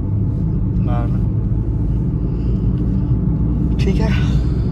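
Car driving on a sunny road near Asansol with a steady low rumble of engine and tyre noise, someone talking over it.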